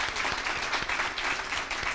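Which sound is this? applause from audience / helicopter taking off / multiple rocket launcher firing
applause from audience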